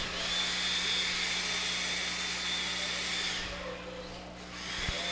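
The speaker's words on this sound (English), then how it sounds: "Grab those blowers, guys." Electric blowers at a radio-controlled off-road race car track, a steady loud whirring drone running continuously with a brief dip near the end, no talk.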